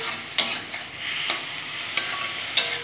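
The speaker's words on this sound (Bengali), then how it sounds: "এখন আমি খুব সুন্দর করে ভেজে নেব বেগুনের সাথে শাক দিয়ে।" Amaranth greens fried with eggplant in a pan, a soft continuous sizzle punctuated by four or five distinct scraping stirs, close and clear, with no voices.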